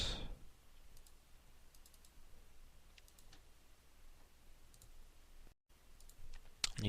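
Sparse computer mouse clicks while building a chemistry molecule drawing, a few short faint ticks scattered across a quiet room with no talk.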